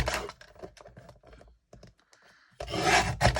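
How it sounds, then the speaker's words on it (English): Scissors cut thin strips of gold mirror card, giving a run of short, close crisp snips and rasps, then a pause and a louder burst of cutting at the end. "So cut it off 1/8 of an inch and use those and just glue them down"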